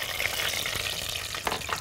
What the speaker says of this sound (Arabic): السمنه كده دلوقتي سخنه خالص مقدوحه، حط عليها السمسم علشان السمسم يتحمر